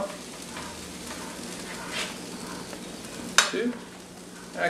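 Coconut flour apple pancakes sizzle steadily on a griddle in a home kitchen, a close, even hiss broken by a sharp metallic scrape of a spatula lifting one off.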